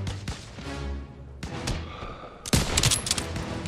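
Gunfire in the World War II shooter Call of Duty: WWII, with bursts of rifle and automatic fire and dull thuds during a squad firefight, the sharpest crack arriving near the end.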